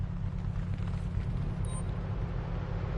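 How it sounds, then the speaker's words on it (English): A loud car engine in a video game set in Brighton rumbles heavily and steadily at low pitch for the whole stretch, close and unbroken, with no talking. "Oh, they have a loud engine, that's right."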